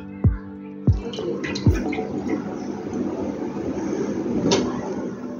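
Water splashing and pouring while Gopu is bathed, with a few sharp knocks early on followed by steady running, splashing water, moderately close.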